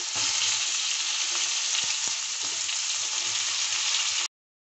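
Cut potatoes and green banana fry in oil with a loud, steady sizzle and a few faint utensil taps, close up. The sizzle stops abruptly and silence follows.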